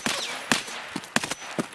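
Gunfire in the Escape From Tarkov video game, several sharp distant shots spaced irregularly over a couple of seconds, fairly faint against quiet background.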